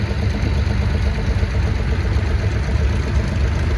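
A 1952 Ford 8M farm tractor chugs along in a tractor parade, its engine giving a steady low rumble with a faint clatter, continuous and fairly close with no voices.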